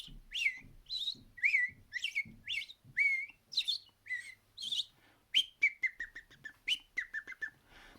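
A person whistles an imitation of an American robin's song, a run of clear rising and falling phrases followed by quicker, lower chirps, close and fairly quiet.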